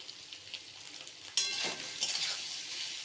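Soybean chunks and potato frying in a pan with salt and turmeric, stirred; a quiet sizzle that jumps to a louder, brighter hiss as ingredients shift, with light scraping strokes and no voices.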